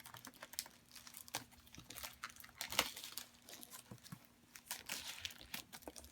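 A subscription box package being opened, with steady crinkling, tearing and rustling of wrapping at low volume, scattered light taps throughout.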